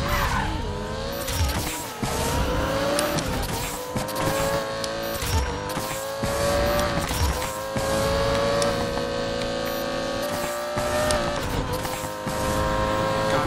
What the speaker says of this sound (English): we gotta overtake that Mitko Vasilev